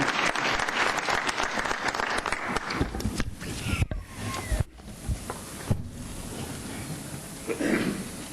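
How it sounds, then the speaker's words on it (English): Loud applause from the audience at a city council meeting, a dense burst of clapping that thins out and trails off into scattered claps and room noise. "Let's give them a big round of applause."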